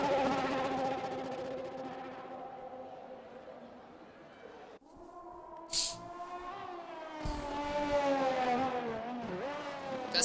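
Race car engine in a racing video game at Zandvoort sounding rough and sick, a wavering whine whose pitch dips and climbs as the car passes through, with a brief sharp spike midway.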